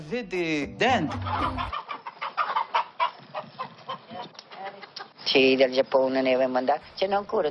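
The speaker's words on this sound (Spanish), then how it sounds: "Tengo pollos de diferentes especies, de todo el mundo, incluso de Japón." Chickens of various breeds, including Japanese ones, are raised free-range on a farm and cluck in short, close bursts between stretches of a person talking.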